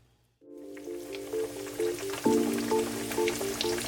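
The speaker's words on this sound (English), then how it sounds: "we're dropping our cutlets into the Crisco and fry them up so they're a nice golden brown" Cutlets drop into hot Crisco shortening and start frying, a sudden burst of bubbling sizzle that swells again as more pieces go in, close and clear with no talking.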